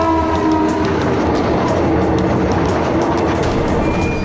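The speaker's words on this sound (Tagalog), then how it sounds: "dadaan na yung tren." A train rumbles steadily past nearby, loud and continuous, with rail noise and a faint horn-like tone underneath.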